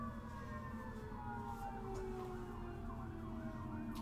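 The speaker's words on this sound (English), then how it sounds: "I'm hearing like 3 different sirens." Faint, distant sirens wail and overlap in real life, not in a game, their pitches sliding up and down beneath a steady background hum of traffic.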